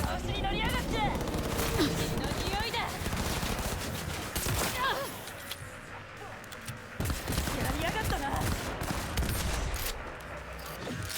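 Shotgun blasts and other gunfire in Cyberpunk 2077, a busy mix of repeated sharp shots and bursts layered with game effects, running continuously at moderate loudness.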